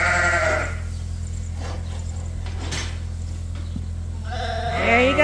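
Sheep on a farm let out a few bleats, loudest at the start and again near the end, over a steady low hum with quiet rustling between.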